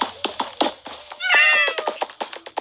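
A cat meows in a video game, one drawn-out meow standing out amid quick clicks and taps of play.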